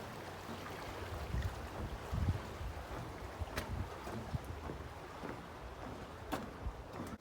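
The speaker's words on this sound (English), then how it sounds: "Awesome river." A mountain river flows beneath a small trail bridge on the Colorado Trail. The rushing is soft, steady and fairly faint, with occasional light gusts and scattered splashes for about seven seconds.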